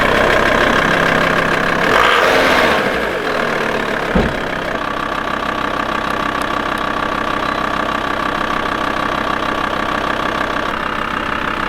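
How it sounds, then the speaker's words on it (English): A camper van's engine idles steadily with a low, even rumble and slight knocking texture, a brief clunk and shift in tone early on, then a constant drone with no talking. "So once we've turned the engine on and had it on idle"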